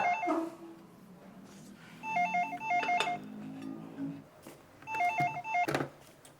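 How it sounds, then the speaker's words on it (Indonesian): A telephone rings indoors in two short bursts of trilling rings, with a pause between them, while people talk over it. "angkat teleponnya."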